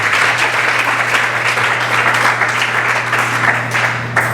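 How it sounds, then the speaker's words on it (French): A conference crowd in Kinshasa claps loudly and continuously, a thick sustained burst of many hands close by with a steady low hum beneath, tapering slightly near the end. "applaudissez très fort pour ce concours"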